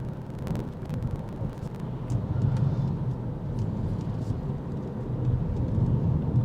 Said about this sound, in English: I just ran over a pothole, or very close to.